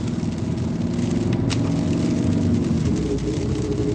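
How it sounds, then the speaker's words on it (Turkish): Steady rain pattering down with a constant hiss, mixed with a low engine hum nearby; no voices. "Görüyorsunuz yağmur nasıl yağıyor."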